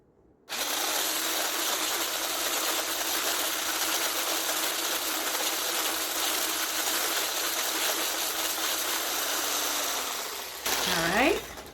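A blender blitzes a chocolate yogurt mousse mixture with cocoa powder, a loud steady motor whir that starts abruptly, runs for about ten seconds, then cuts off as a voice begins speaking.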